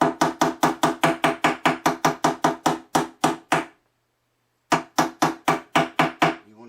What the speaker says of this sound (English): And then just hammer across.